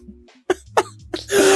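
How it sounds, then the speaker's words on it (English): Several sharp coughs close to the microphone, three quick bursts followed by a harsher, breathy one at the end. "Cough."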